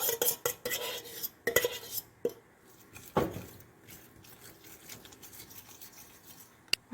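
Oil being stirred into vanilla chiffon cupcake batter in a bowl, with a utensil clinking and scraping against the bowl in several quick strokes, fairly close, then quieter scraping with a few sharp taps.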